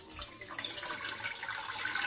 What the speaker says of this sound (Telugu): స్టవ్ ఆన్ చేసుకొని ఒక గిన్నె పెట్టుకొని అందులో వాటర్ పోసుకుందాము.